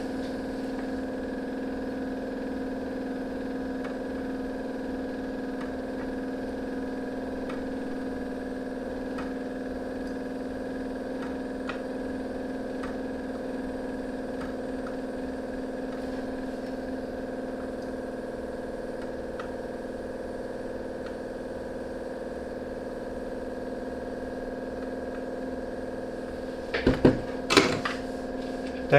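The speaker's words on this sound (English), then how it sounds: "The noise you hear is a fume extraction unit." A fume extraction unit runs in a CNC and electronics workshop, giving a steady, continuous mechanical hum and whir at moderate level throughout, with a few brief sharp knocks near the end and no talk.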